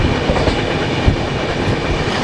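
The Mithila Express runs at high speed, a loud, close, continuous rumble of rail wheels with clickety-clack rhythm and wind roar filling the whole stretch.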